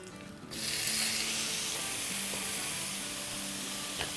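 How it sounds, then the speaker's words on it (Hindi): A batch of snack slices hits hot oil after a brief quiet moment, and a loud, dense, steady sizzle then continues with faint stirring. "दोबारा 1 टेबल स्पून तेल डाल देते हैं और अनदर बैच डाल देते हैं।"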